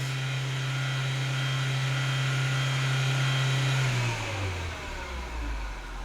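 A 1999 Ford Fiesta engine with a stalling-when-cold fault, heard close as a steady loud idle hum that rises into a sustained rev, then falls away to a low rumble near the end, with no talking.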